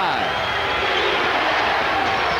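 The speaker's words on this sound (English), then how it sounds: "Rocket crowd yelling defense." A packed basketball arena crowd roars steadily for the Houston Rockets defense late in a close game against the Indiana Pacers, a loud, continuous wash of yelling and cheering with voices mixed in throughout.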